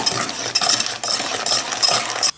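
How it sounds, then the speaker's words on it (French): A chocolate cake mixture stirred with a little water, a spoon scraping steadily around a bowl in rapid repeated strokes, close and fairly loud, with no voices. "je vais mélanger cette préparation avec un peu d'eau"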